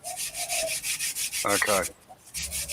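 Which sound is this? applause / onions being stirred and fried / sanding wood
sanding wood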